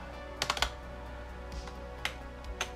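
Keys clatter on a computer keyboard in a short irregular burst of taps, then two or three isolated keystrokes follow after a pause, close and fairly quiet over a steady low hum, with no talking.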